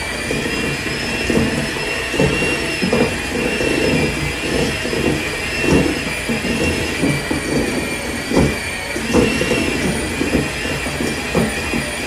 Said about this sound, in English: We are going to go ahead and give that a little mix with our hand mixer here.